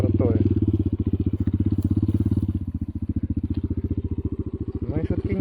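A Kayo T2 enduro motorcycle with a 172FMM engine idles in rapid, even pulses, loud and close, with a faint rustling tick riding on the steady beat.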